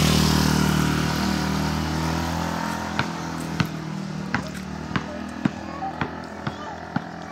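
A motorcycle engine drones loudly nearby and then fades away as it passes, leaving a quieter scene with a series of sharp, evenly spaced ball bounces.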